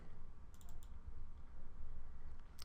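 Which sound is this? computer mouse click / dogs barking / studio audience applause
computer mouse click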